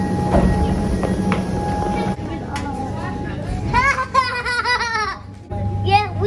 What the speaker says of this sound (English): To get to the footy, we need to take the train.